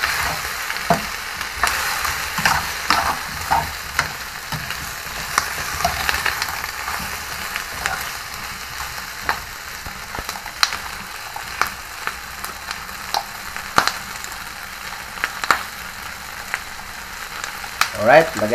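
Chicken feet frying in a pan for adobo give a steady, close sizzle with scattered sharp pops and spatters, plus occasional stirring, throughout with no talking.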